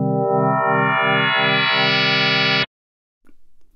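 A buzzy Pigments synthesizer note using wave folding, with a rhythmic low throb whose upper harmonics gradually brighten, ending abruptly, followed by a short pause and faint low sounds.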